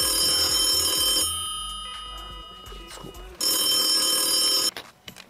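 A telephone bell rings loudly in two bursts separated by a quieter pause, with brief sounds between the rings.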